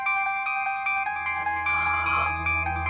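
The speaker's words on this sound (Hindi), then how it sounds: "समर का फोन है" A phone ringtone plays steadily and loudly, a repeating electronic melody of bright tones over a low hum, with no talking.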